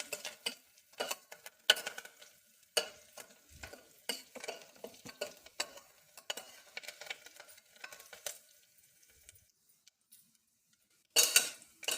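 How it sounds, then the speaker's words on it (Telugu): Small mustard and other tempering seeds crackle and pop in hot oil while a spoon scrapes and stirs the pan in irregular taps, fairly quiet and close. "మనకి తాలింపు గింజలు మాడిపోకుండా వేయించుకుందాము"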